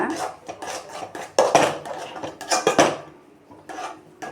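Powdered cashews stirred into thirupagam in a pan, a spoon scraping and clinking against metal in quick uneven strokes, close and fairly loud with no talk.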